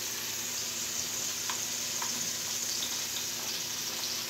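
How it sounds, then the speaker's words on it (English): Steady, fairly loud sizzle of food sautéing in a pan during outdoor survival-style cooking, with a few faint utensil taps over the continuous frying hiss; no talking. "So this is our saute, man. We're gonna saute this"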